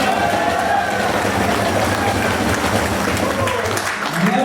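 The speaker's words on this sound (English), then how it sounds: "Just start clapping." A convention hall audience claps in a dense, steady roar of applause that holds at full loudness throughout, with no single hands standing out.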